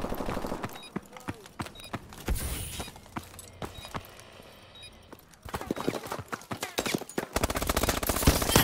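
Rapid automatic gunfire rattles in a bomb-planting shooter video game match, with dense bursts of shots, a quieter lull midway and heavy fire resuming toward the end, while voice lines sound between the shots.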